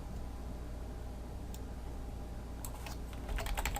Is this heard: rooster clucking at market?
no